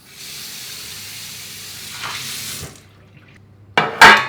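Tap water runs into a sink as something is rinsed after a citric acid treatment, a soft steady splashing stream that fades out, followed by two short, louder bursts of water near the end.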